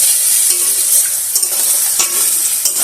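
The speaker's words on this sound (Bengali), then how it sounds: "কাঁঠাল পেঁয়াজ রসুন ভাজা চলছে" Jackfruit, onion and garlic fry in a pan for a jackfruit-prawn dish, giving a loud, steady hiss of sizzling oil close by, broken by a few soft scrapes of stirring.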